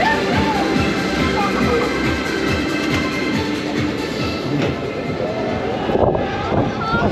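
Steady rumbling and rattling of a roller coaster train running along its track at Europa Park, loud and continuous, with faint voices in the background.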